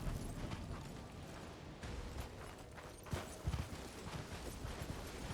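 A horse gallops in the Elden Ring video game, steady rhythmic hoofbeats pounding across the ground, fairly faint and continuous with a few heavier thuds.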